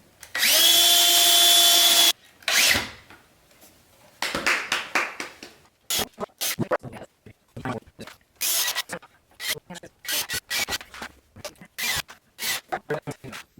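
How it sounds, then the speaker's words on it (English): A power drill bores pocket holes in an old bathroom mirror frame. A sustained whine opens, followed by many short, loud bursts of drilling, with people talking in between. "Now we're just doing some pocket holes in the, so we can screw diagonally across here to give it some extra stability."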